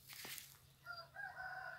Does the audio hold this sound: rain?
no